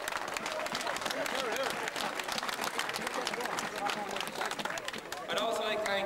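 Applause and cheering from the crowd at an Athy vs Clane under-21 match fill the air in a dense, continuous wash, with scattered voices and shouts mixed in throughout.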